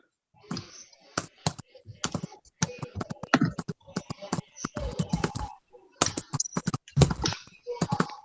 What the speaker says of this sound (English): Oh, somebody's typing.